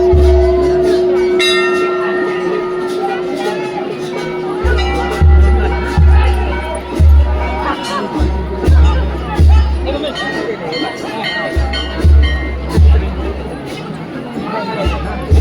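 A busy gathering's crowd babble with a ringing bell tone early on and rhythmic low booming thumps, while nearby voices talk throughout.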